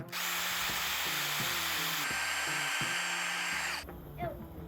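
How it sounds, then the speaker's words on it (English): A power drill whirs loudly and steadily for nearly four seconds, then cuts off, leaving a moment of quiet. "Alexander, can you hand me my drill?"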